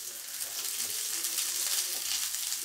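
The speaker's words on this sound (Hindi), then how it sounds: "हल्का सा इसको भी भून लेंगे और इसमें एक बड़ा प्याज ऐड कर देंगे जो हमने मोटा मोटा काटा हुआ है।" Chopped green chillies and thickly cut onion fry in a pan with a continuous soft, hissing sizzle and no talking.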